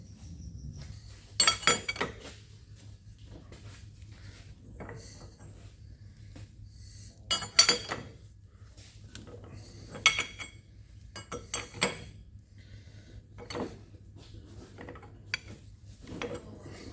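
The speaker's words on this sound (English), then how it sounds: "we need to give that a good nip down with the spanner." A spanner tightens a boring bar on a large milling machine, giving a few sharp metallic clanks and ratcheting clicks spread over a low steady machine hum, with quiet gaps between the knocks.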